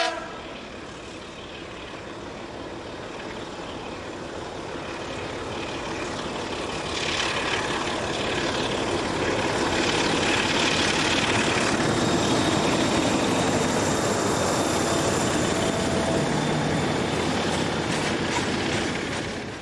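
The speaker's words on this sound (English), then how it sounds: "The Sulzer engine class ST41s produce quite a noise when on full power" Sulzer-engined ST41 diesel locomotive working at full power, a loud sustained engine roar with a broad rumble that swells midway and holds steady, close by and with no voices.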